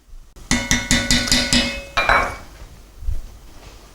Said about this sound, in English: You do need to move these onions around occasionally